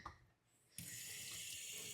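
Tap water runs into a sink to rinse fresh parsley: a brief quiet moment, then a sudden steady rush of running water that continues evenly to the end.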